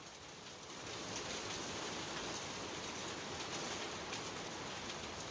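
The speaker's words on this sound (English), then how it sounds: "That's reasonable size hail." Hail comes down hard during a thunderstorm, a dense, steady clatter that swells after the first second and then holds at an even roar without any pause.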